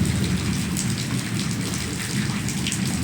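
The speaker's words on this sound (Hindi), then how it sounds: "बारिश गिरना बंद नहीं हो रहा है" Steady heavy rain falling outdoors, a dense, even hiss of drops on surfaces that continues without pause, with no voices.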